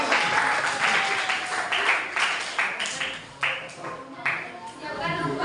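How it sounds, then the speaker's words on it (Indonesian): A classroom group gives scattered applause as students come to the front, sharp uneven claps in short bursts over voices talking in the room. "Kita beri tepuk tangan."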